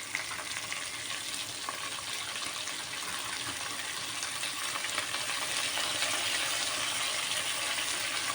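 Vermicelli frying in a pot with finely chopped onion and mixed colored peppers gives a continuous loud, dense hiss that holds steady throughout, with a brief knock at the very end.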